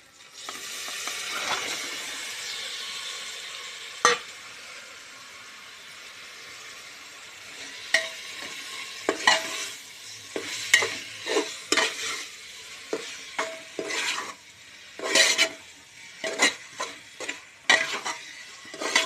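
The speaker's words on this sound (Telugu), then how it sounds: "అల్లము నూనెలో మంచిగా ఫ్రై అయిన తర్వాత చికెన్ వేసుకోవాలి." Chicken sizzles in hot oil with ginger for chicken pulao, a steady frying hiss broken by scraping stirs of a spoon against the pan that grow more frequent and clattery toward the end.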